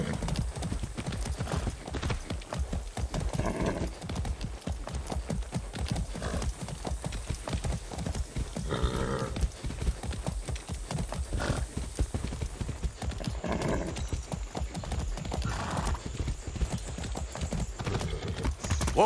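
Horse hooves clip-clop in a steady walking rhythm in Far Cry 6, close and fairly loud, with occasional faint horse snorts between steps.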